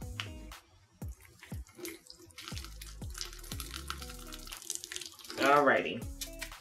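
Water drains out of a houseplant pot filled with leca clay pebbles holding a philodendron, a short splashy gush near the end over steady background music and a speaking voice.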